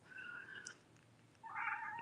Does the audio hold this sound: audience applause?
no